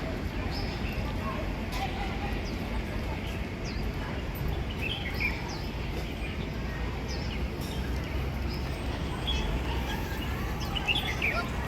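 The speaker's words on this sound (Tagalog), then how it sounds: "Mga ibon." Small birds chirp faintly along Old Peak Road, a hiking trail in Hong Kong, with scattered short calls under a constant wash of outdoor noise and low murmuring.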